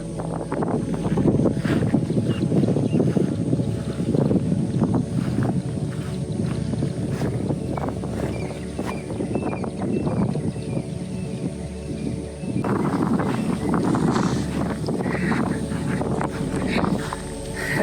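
Steady wind rushes and buffets the microphone outdoors, a continuous loud roar with low rumbling throughout and no talking.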